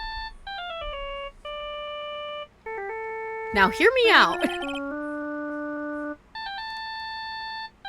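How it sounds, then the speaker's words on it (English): A phone ringtone from the video game Ace Attorney: Justice For All plays as a bright, stepping electronic melody of sustained tones, interrupted midway by a brief burst of speech before the tune resumes. "I bet it was this ringtone that caused it"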